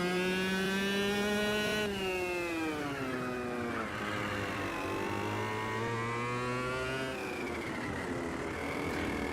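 A racing kart engine in Automobilista 2 buzzes loud and high without a break, its pitch rising under acceleration and dropping for corners as the kart laps the track.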